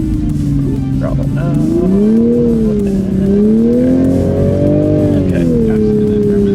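A sports car on Bridgestone Blizzak 6 snow tires accelerates across a snowy winter driving course, the engine droning loud and near as its pitch wavers up and down, with a voice talking over it.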